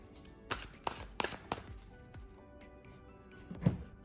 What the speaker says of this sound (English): But let me just give it a good shuffle.